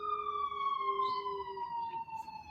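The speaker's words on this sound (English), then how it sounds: "Let me halt for the sirens." An emergency vehicle siren sounds continuously, its tone drifting slowly lower as the vehicle moves away, fairly faint and distant.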